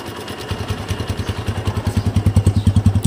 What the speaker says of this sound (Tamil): இப்போ இன்ஜின் பீட்டை வந்து பாருங்கள், நான் வந்து சைலன்சரை வந்து அடைச்சி காட்டுறேன் உங்களுக்கு.